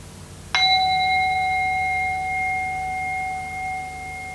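A meditation bell is struck once and rings out as a clear, sustained metallic tone that fades slowly over several seconds, with no talk.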